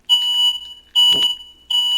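A household smoke alarm set off by cooking sounds three loud, piercing electronic beeps in a repeating pattern, with a brief thump or handling noise during the second beep.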